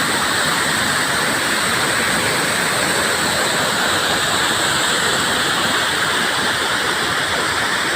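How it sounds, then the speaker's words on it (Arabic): A spring-fed waterfall roars in a steady, dense rush that holds an even loudness throughout, with no voices heard over the continuous pour. "هذا شلال اخر عاوتاني حتى هو كذلك."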